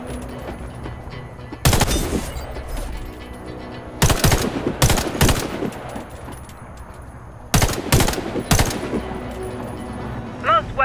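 Bursts of automatic rifle fire at targets in the Warface game, three separate volleys of rapid shots with quieter gaps between them.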